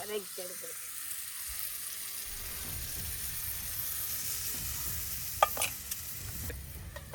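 Cuttlefish frying in a pan with spice powder, a steady soft sizzle with stirring scrapes throughout and a couple of brief sharper clinks near the end, heard fairly close.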